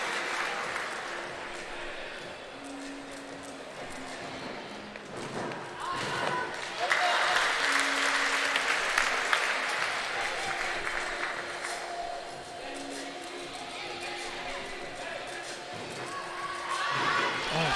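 Audience applause and cheering fill an arena at an artistic gymnastics world challenge cup in Tel Aviv, swelling midway and lingering under a commentator's voice.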